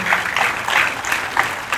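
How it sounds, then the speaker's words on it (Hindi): An audience claps steadily, a dense wash of applause that swells slightly in waves without pause. "कलाकारों के लिए देखिए तालियां बहुत जरूरी है"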